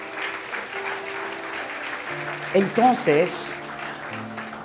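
Steady applause from a church congregation fills the clip, with a preacher speaking briefly over the clapping.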